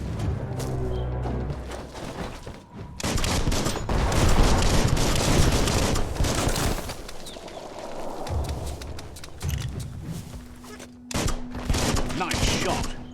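Gunfire rings out in the Biomutant action game, dense bursts of shots and impacts layered over music and effects, loud and continuous, with a steady tone near the end.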